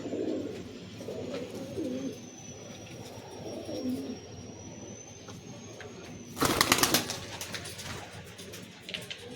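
Soft, low cooing from Madrasi pigeons, including a male, repeats close by, followed by a burst of wing flapping near the end.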